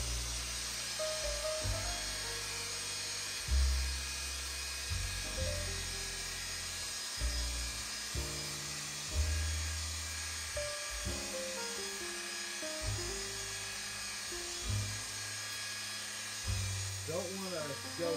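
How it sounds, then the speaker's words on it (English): A polishing buffer works compound into the clear coat of a 1958 Vendo 81 Coke machine, its motor whining steadily with shifting pitch as it loads and unloads, while a voice talks over it throughout. "Let the buffer do its job, let it get that compound, especially when it's wet, and let it do its work."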